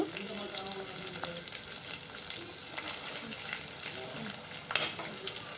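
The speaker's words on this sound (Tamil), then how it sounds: "லைட்டாக லைட்டாக வதக்கிட்டு அதுக்கப்புறம் கர்லீஃப் போட்டுக்கோங்க" Curry leaves crackle and sizzle in hot oil in a pan, a steady busy frying hiss with occasional sharper pops, including one louder burst near the end, heard close with no talking.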